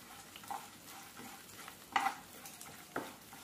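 Coriander seeds, cumin and chana dal dry-roasting in a pan give a faint, soft rustle, with a few brief scraping clinks as they are stirred, and no talk.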